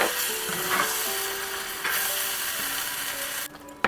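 Mughlai chicken curry mixture bubbles gently on a low flame, a steady soft frying sizzle with faint stirring, then the sound abruptly drops near the end.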